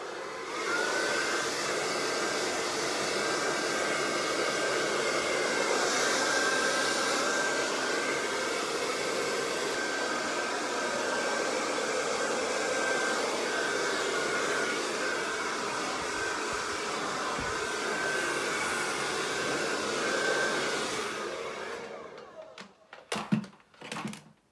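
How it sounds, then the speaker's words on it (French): A handheld hair dryer blows on curly hair during a Brazilian straightening treatment, a loud, steady whining drone that runs nearly throughout before cutting off into a few handling clicks. "le sèche-cheveux."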